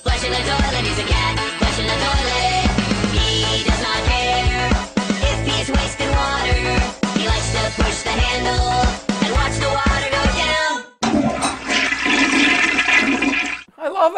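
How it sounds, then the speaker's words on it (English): A cat flushes a toilet, a loud, steady rush of water lasting several seconds, nearly masked by loud rhythmic music playing over it. "He's a cat, flushing the toilet, he's a cat."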